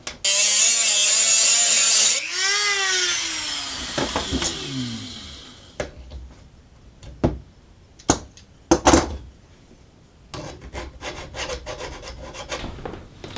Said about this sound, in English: I will cut it with my Dremel